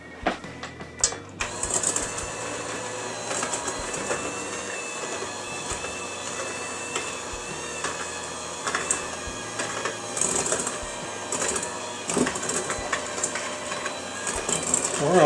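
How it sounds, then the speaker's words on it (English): A hand mixer creams cookie dough for peanut butter kiss cookies with a continuous close whirring hum, beaters clattering irregularly against the bowl over the motor's drone. "Now we are going to use our hand mixer here, and we are going to cream this all together."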